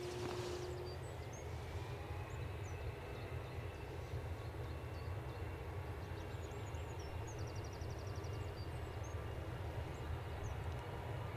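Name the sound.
planes at Edinburgh Airport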